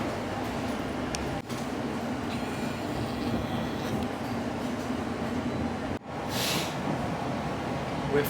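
An empty London Overground Class 710 carriage heads toward Romford, giving a steady low rumble of rolling train noise throughout. Brief dips and a short hiss break the drone.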